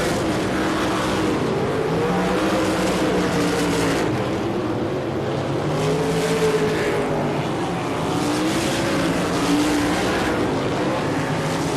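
USAC sprint cars roar around the track late in a 50-lap feature at the 1999 4 Crown Nationals, a dense continuous engine drone with pitches rising and falling as cars pass.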